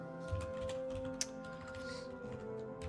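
Quick, light clicks from a computer keyboard as a chat message gets typed, an uneven patter of keystrokes over a faint electronic hum.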